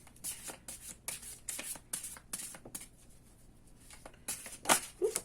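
Tarot cards are shuffled by hand close to the mic, a run of quick papery riffles and flicks in uneven bursts, then a short lull and a few louder snaps at the end.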